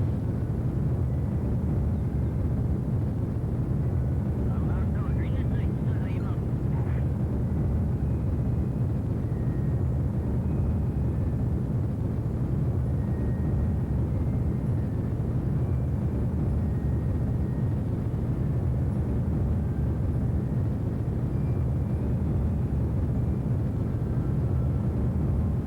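Space shuttle Discovery's rocket engines roar in the Kerbal Space Program video game during powered ascent, a steady, dense low rumble that holds unbroken for the whole stretch without any voices.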